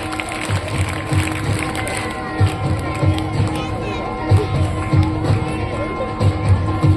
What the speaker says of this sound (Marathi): सगळ्या विद्यार्थ्यांनी जोरदार टाळ्या वाजवायच्या 10वी अ साठी